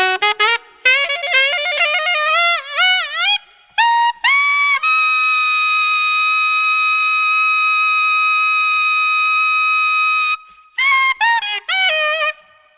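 Saxophone playing an altissimo solo at America's Got Talent 2022: quick bending high notes, a long sustained squealing high tone for several seconds, then a fast descending run of notes, loud and close with no talking.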